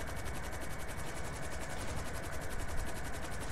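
Cargobob helicopter in GTA V coming in to land on the FIB building, a steady close rotor roar with rapid blade chop and engine whine held throughout the short stretch, no voices.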